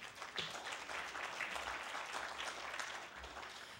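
Audience applause after a speaker's remarks at a public forum on Citizens United v. FEC, a broad wash of many clapping hands heard faint and somewhat distant, steady for several seconds.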